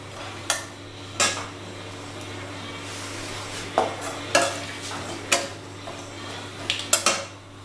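A ground paste of onion, tomato, garlic and green chilli is stirred in a pan over a low sizzle, with a series of sharp metal spoon clinks and scrapes against the pan, no speech.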